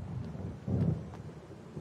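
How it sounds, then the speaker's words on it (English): Low thunder rumble from an approaching storm in Alan Wake Remastered, a single soft roll swelling briefly and fading, with no voices. "It seems there's a storm coming."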